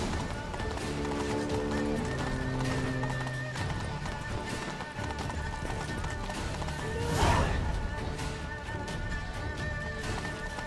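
A horse gallops in the video game The Witcher 3: Blood and Wine, hooves clopping in a steady rhythm beneath music and ambient game sound, with a brief swell partway through.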